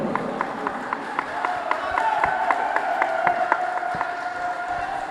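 Audience applause for a player at a quiz competition quarter-final between school teams, steady clapping from a crowd sustained throughout with a hall-like wash, no speech over it.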